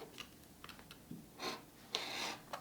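A 45 mm rotary cutter rolls through fabric along a quilting template, making faint, short scrunching strokes close by in a quiet room with no talking.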